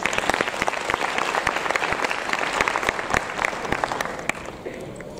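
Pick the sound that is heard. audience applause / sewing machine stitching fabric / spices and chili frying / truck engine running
audience applause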